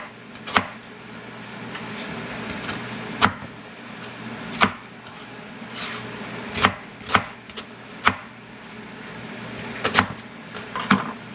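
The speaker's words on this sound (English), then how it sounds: "And then I just chop up the onion." A knife chops an onion on a cutting board. There are about a dozen sharp, close thuds at irregular intervals over a steady low background hum.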